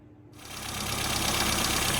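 A tuned Mini 998 engine with a tightened condenser and adjusted points starts up, jumping from near silence to a loud, steady, busy running note that holds to the end.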